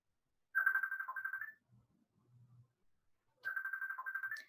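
A phone ringtone plays two bright electronic trill bursts, each about a second long, with a pause between them holding a faint low murmur; close but fairly quiet.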